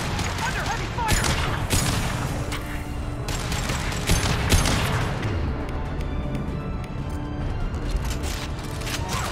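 Heavy sustained gunfire in Mass Effect 2 during a mission to save Oriana, with dense overlapping shots, impacts and crashes under a constant battle din, with some voices mixed in.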